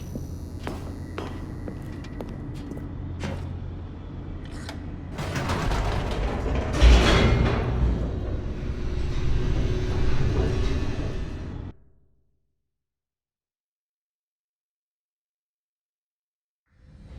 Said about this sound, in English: The elevator raced downward, plummeting towards an unknown fate.